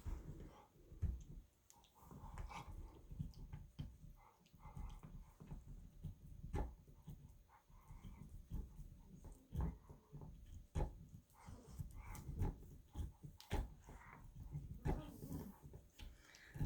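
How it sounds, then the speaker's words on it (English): A dog crunches and gnaws on a bone close by, with irregular cracking bites and chewing sounds throughout. "If you hear a bunch of crunching happening, you can see that our dog Yukon is enjoying his bone"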